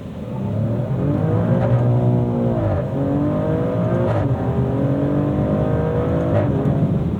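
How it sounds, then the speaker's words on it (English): A Maserati Grecale Trofeo in manual mode revs hard toward redline, its engine note climbing in repeated sweeps with short pops and breaks at each upshift, loud and close from inside the cabin. "And you get these little farts between upshifts"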